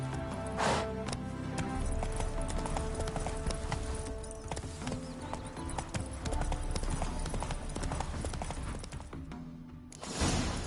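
Hooves of Roach, the horse in The Witcher 3, clip-clop in a steady, close rhythm that runs almost without a break, and a brief louder burst comes near the end.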